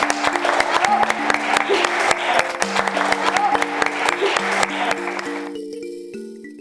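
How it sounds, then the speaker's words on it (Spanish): Lively audience applause at a stage show, dense clapping with sustained musical tones beneath it, tapering off near the end as the clapping thins out. "Un aplaudiment per totes i tots."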